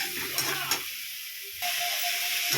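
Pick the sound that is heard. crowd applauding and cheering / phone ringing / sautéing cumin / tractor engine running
sautéing cumin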